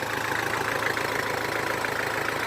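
A Kubota L4508 tractor engine idles steadily close by, a continuous low mechanical chug with a regular knocking pulse and no voices.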